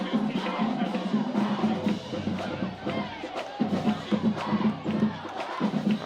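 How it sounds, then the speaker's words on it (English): A lively home crowd at a high school football game, John F. Kennedy against Bishop Ahr, cheering and shouting in rolling surges, with chanting voices rising and falling across the stands. "Kennedy crowd is lively right now"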